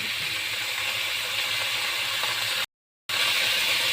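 Vegetable curry sizzles in a hot pan, a steady close hiss that runs without pause except for one short silent break near the end.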